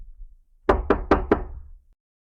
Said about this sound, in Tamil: உடனே எறும்புகளின் குகைக்குச் சென்று கதவை தட்டியது.